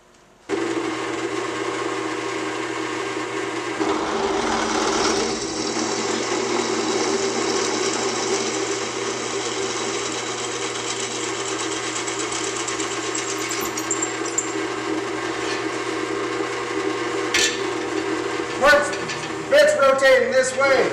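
Drill press boring holes in a steel BMW E36 seat bracket, a continuous whirring motor hum with steady cutting noise for most of the stretch, with a person talking throughout and some metallic rattling near the end.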